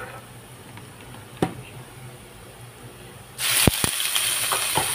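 Shrimp hitting a hot frying pan with garlic in a home kitchen for a chives guisado, first a couple of faint clicks over low hiss, then a sudden loud, steady sizzle with sharp crackles.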